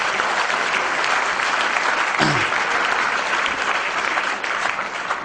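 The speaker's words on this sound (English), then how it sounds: "So let's have a clap for that." An audience at a corporate talk for engineering and management graduates breaks into steady, dense applause that fills the room continuously from start to finish, with a brief voice-like sound partway through.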